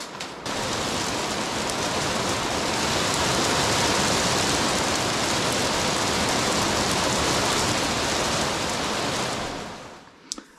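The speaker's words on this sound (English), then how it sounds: "That is hail." Hail pelting down hard and steady, a dense, loud roar of ice striking surfaces that stays constant for about ten seconds before cutting off abruptly.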